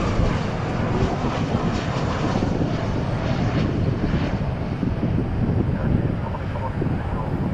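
Inbound airliner from Boise arriving at DFW airport gives a steady, broad roar of jet engines at moderate distance, with voices talking faintly over it.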